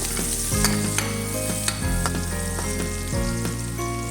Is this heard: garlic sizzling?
yes